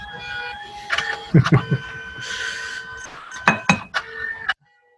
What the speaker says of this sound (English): So we're printing. This is just a simple photo printer.